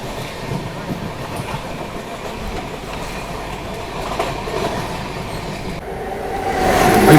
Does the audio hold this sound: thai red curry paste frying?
no